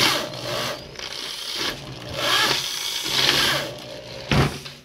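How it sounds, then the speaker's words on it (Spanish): A drill bit grinds plastic out of a vehicle handbrake cable terminal in several uneven bursts of whirring and scraping, close up and moderately loud. "Este plástico lo vamos a retirar con la broca."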